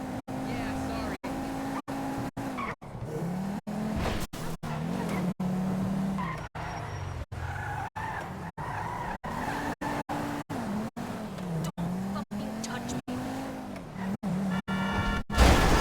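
A fast car tearing along in the video game GTA V, with a loud, continuous engine roar that rises and falls and squealing, skidding tires, while people talk over it.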